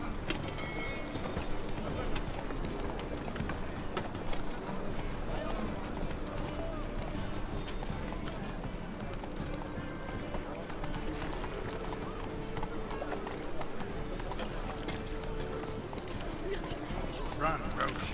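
Roach the horse gallops in The Witcher 3: Wild Hunt, a rhythmic clip-clop of hooves running steadily beneath frequent talking, with faint birdsong in the background.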